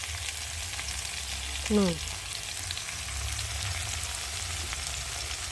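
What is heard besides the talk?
vegetables frying in a pan with spices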